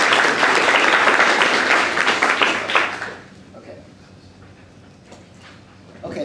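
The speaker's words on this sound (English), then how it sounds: "I think he deserves a round of applause for this" An audience claps loudly in a ceremony hall for the incoming department chair, a dense burst lasting about three seconds before fading into a quiet room with faint murmuring.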